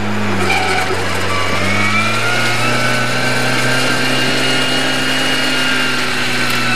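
A rally car's engine holds high, steady revs at the start line of a 2015 rally, loud and close with a sustained droning whine and a slight pitch shift partway through.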